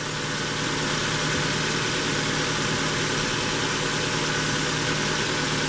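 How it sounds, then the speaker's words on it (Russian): A 2005-2008 Ford Focus II car engine idles steadily nearby, a constant low rumble with a faint mechanical hum and no changes in speed. "Работа двигателя на холостых оборотах."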